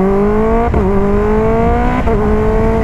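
A hydrogen-powered car engine revs steadily at high volume, with two sharp breaks where the pitch drops as the gears shift, then climbs again. The tone is smooth and sustained, close and loud, with no talking.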